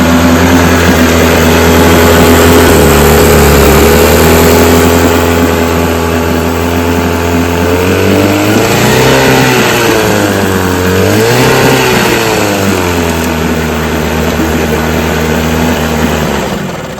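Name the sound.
vintage Johnson 10 HP outboard motor running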